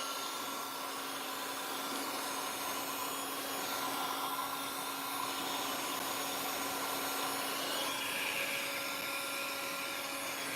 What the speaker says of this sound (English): I'm loving the heat of this gun